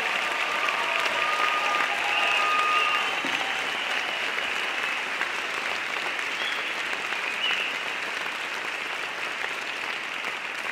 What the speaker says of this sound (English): please give a nice round of applause to the West Hepford Middle School Choir.